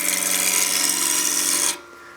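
A wooden wine glass blank spins on a lathe as a tool cuts it nearly round, giving a loud steady rasping scrape with a humming tone that stops abruptly near the end, leaving only the quieter whir of the lathe.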